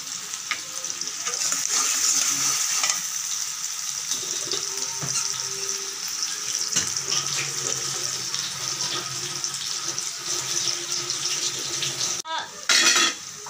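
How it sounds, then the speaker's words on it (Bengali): Garlic frying in oil in a home kitchen pan, a continuous close hiss broken by stirring clatter and a brief louder scrape near the end. "এই তো রসুন দিয়ে দিচ্ছি, রসুন দিয়ে দিলাম আমি এখানে"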